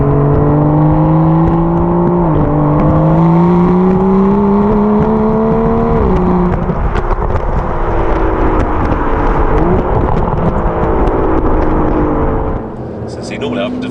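An Aston Martin DBS Superleggera accelerates hard in third gear, its engine note climbing steadily in pitch, easing briefly, then rising again, loud and close throughout, from inside the car.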